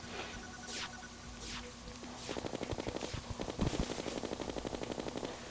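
A rapid automatic stream of gunfire from a gun shooting crystal bullets in the video game Terraria, a steady quick rhythm of shots starting after a few whooshing effects, moderately loud within the game's sound mix.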